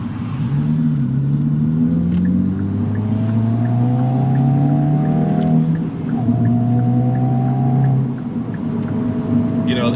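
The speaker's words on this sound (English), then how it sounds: "it's getting quite a bit of wheel hop there, and the tyres are squealing and it's braking traction" Hyundai i20N hatchback on launch control, its engine revving loud and close in rising sweeps while the front tyres squeal and the car shudders with wheel hop under hard acceleration.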